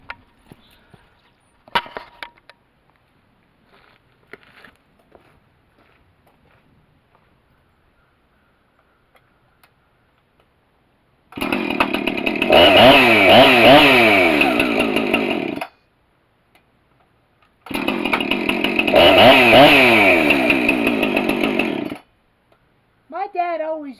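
Chainsaw fired up from cold on choke, running in two loud sustained bursts of engine roar with revving, after a quiet stretch with scattered small noises and brief talk.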